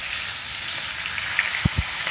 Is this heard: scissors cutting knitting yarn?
no